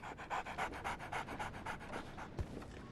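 A dog pants rapidly in the video game Sherlock Holmes The Awakened, a quick rhythmic series of breathy huffs close up, fading slightly before a brief low thump near the end.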